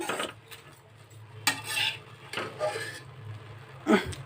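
A utensil scrapes and clinks against a pot while sweet dum semiya vermicelli is stirred with milk, giving irregular close scraping strokes with a few sharper knocks and a soft sizzle between them.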